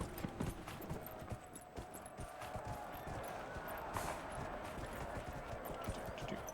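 Horse hooves clip-clop steadily in a video game as the mount runs across terrain, with a rapid, even rhythm and a constant background wash of game ambience and music.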